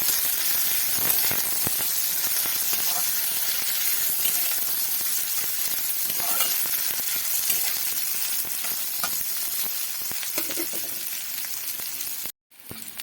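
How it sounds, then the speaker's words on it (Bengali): Chopped onion and garlic hiss and sizzle steadily in a pan, with occasional stirring scrapes; the sound cuts out briefly near the end. "পেঁয়াজ রসুনগুলো ভালো করে ভাজা হয়ে গেছে।"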